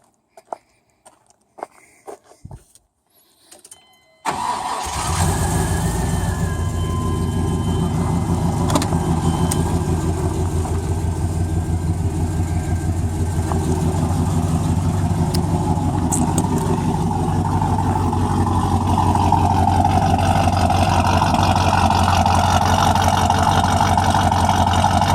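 A Chevy small-block 355 V8 with ProFlo 4 port fuel injection starts after a few handling clicks, then settles into a loud, steady idle with a deep continuous rumble that runs for the rest of the clip.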